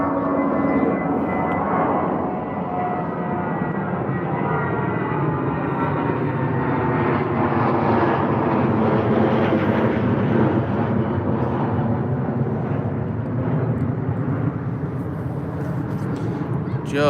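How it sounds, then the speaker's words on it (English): A British Airways A319 climbs out of Heathrow and banks overhead, a loud, continuous jet roar that swells and holds for the whole stretch with a broad, rushing tone. "banking out of Heathrow is British Airways A319 heading off to Aberdeen"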